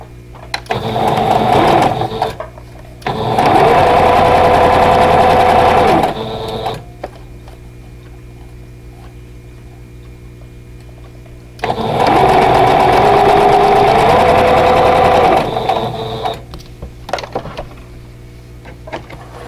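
A sewing machine stitches quilt block pieces with a 1/4 inch seam for an Arkansas Snowflake vintage block, running in two loud, steady whirring bursts of a few seconds each, separated by quiet pauses.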